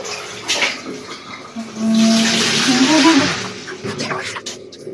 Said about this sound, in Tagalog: Nilagyan ko po konting mainit na tubig yung kanya pinapaligo.